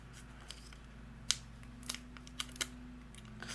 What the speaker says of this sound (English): Now I'm going to use my scissors and kind of go under halfway mark of my letters here.